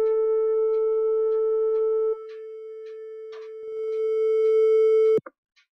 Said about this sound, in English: Okay, so here's 440 hertz.